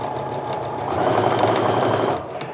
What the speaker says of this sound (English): I always slow down when I get to the center because I want to make sure that I'm sewing 1 needle width to the right